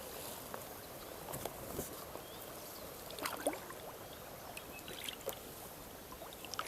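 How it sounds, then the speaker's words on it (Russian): Paddle strokes on a packraft moving down a river, soft irregular splashes and water swishes close by over a constant wash of flowing water, with no talking. "Так, вынужден подгребать."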